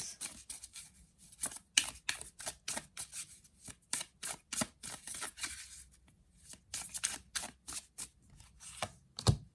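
Tarot cards being shuffled and set down, a quiet run of crisp riffles and papery slaps in a close, irregular rhythm with no talking.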